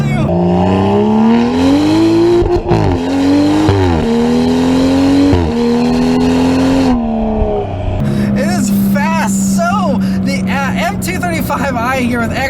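Tuned 2015 BMW M235i xDrive with its 3-liter twin-turbo inline-6 and full exhaust, loud engine climbing through several gear changes with a rising, falling drone, then settling to a steadier tone as someone talks over it.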